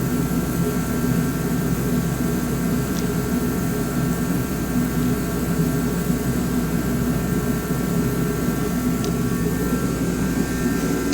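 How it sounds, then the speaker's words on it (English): Heaters run inside a schoolhouse in Largo, a loud, steady, noisy roar with a low hum that holds constant throughout without breaks. "those heaters are very loud and very noisy"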